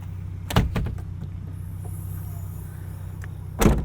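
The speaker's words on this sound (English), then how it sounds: "The swing out door is a little bit more sluggish and less willing to open and close just because of that reinforcement and the heavier tire." The swing-out tailgate door on a 2022 Ford Bronco Raptor, weighed down by a heavier spare tire: a close latch clunk, a rattling stretch under steady engine idle, then a second solid thud as it shuts.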